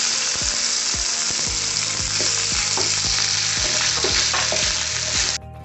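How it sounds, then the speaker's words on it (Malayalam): Coconut pieces frying in hot coconut oil, a loud, dense, continuous sizzle close up, with regular knocks and scrapes of stirring throughout, no voices. "ആദ്യം തേങ്ങ കൊത്തിട്ട് വറുത്തെടുക്കുകയാണ്."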